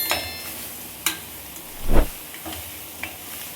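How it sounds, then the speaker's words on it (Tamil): Chicken masala sizzles softly in a pan while a spoon scrapes and stirs, with a few sharp clinks against the metal. "நல்லா வதக்கிடலாம்."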